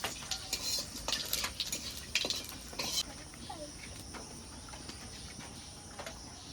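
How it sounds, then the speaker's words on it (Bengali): A tempering of bay leaf, dried red chilies and whole cumin in a pan, stirred with a few quick metal clinks and scrapes early on, followed by a faint, steady sizzle. "ফোড়ন দিয়ে দিয়েছি, একটু নেড়ে চেড়ে নেব।"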